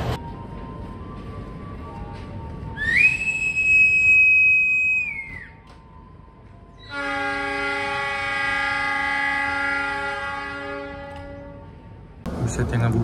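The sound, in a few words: Gajayana executive passenger train departing Tulungagung station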